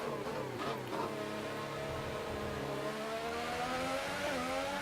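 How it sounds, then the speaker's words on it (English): Formula 1 car engine in the racing video game F1 2018 on PS4, a steady high-pitched whine that climbs and shifts through gears continuously, loud and alone without talk. "I am trying to focus now more so on the engine sounds"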